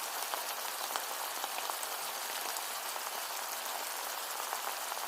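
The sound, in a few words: onions and green chillies frying in oil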